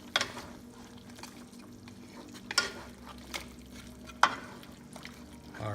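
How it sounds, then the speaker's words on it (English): Pork pata tim dish with a teaspoon of sesame oil being stirred in a pot, faint scraping strokes and soft liquid sizzle with a few sharper clinks of the spoon against the pot, no talking. "Okay, then we'll give this a good stir."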